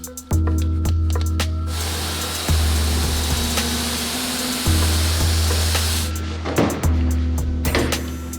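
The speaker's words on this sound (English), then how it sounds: "So we're gonna spray it on with the IK sprayer." An IK pump sprayer applies pre-wash to a 2014 Toyota Avalon during a deep cleaning, giving loud, close, repeated hissing bursts of spray separated by short pauses, with no talking.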